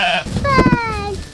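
A woolly sheep at a farm pen bleats in one long, wavering cry close by, with people talking around it.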